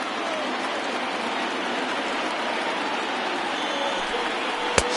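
A baseball stadium crowd of over 39,000, on its feet during a tense at-bat at an all-star game, sends up a dense, steady roar that fills the whole stretch, with one sharp pop near the end.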